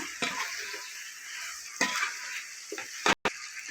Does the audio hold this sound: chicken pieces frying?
yes